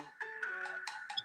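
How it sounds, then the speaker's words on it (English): A mobile phone rings with a repeating electronic tone in short bursts, moderately loud and close, with no talk over it. "someone's phone going off."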